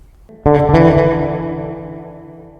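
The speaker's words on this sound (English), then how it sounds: "Alright, let's choose plate reverb." A single bass guitar note is plucked through a NUX Atlantic plate reverb and rings out with a lush, washy reverb tail that slowly fades over a couple of seconds.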